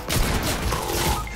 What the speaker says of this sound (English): I'm getting shot by all of them.